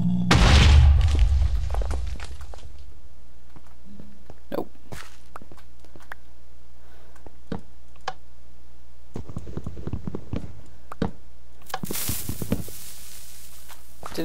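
A Minecraft explosion opens with a loud, deep boom that fades over about two seconds, followed by scattered clicks and small game sounds over a quiet hum, with another burst of noise near the end.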